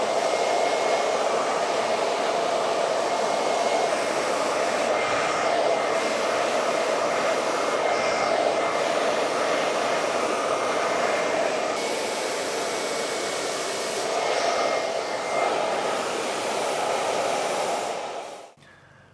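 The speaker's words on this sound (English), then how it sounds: "Just going to work the rough dry first of all, get some lift into the roots" Steady, loud rush of a hair dryer rough-drying a woman's flat roots to build volume, running continuously at one even speed with faint brush shifts, then cutting off near the end.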